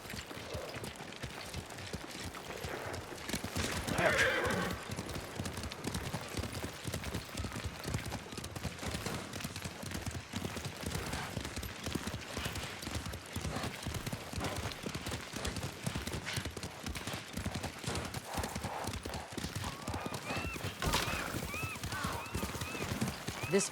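Horses' hooves clip-clop steadily on the ground in Ghost of Tsushima, a continuous close trot under voices and game ambience.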